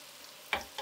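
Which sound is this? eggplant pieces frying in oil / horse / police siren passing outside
eggplant pieces frying in oil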